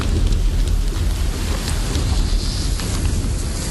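Heavy rain pours down in a dense, loud, unbroken hiss that holds steady from start to finish, with no voices.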